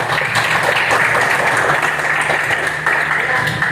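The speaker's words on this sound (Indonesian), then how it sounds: "Tapi hari ini ya berikan aplaus untuk kita semua" A classroom of students applauds together, a dense, continuous wash of clapping that stays loud and close throughout.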